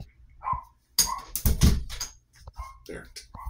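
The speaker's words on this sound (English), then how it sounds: "He's a weird mix of dogs. Jack Russell, Beagle, some other stuff. Makes him bark a lot." A Jack Russell and Beagle mix dog barks and yips indoors in short, repeated bursts, close and fairly loud, mixed with a person talking.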